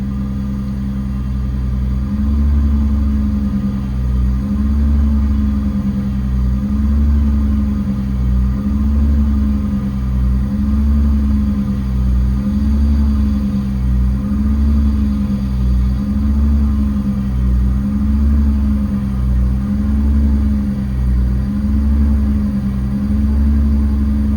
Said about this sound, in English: Builds air to about 180. Then it stops. Just turn the compressor off.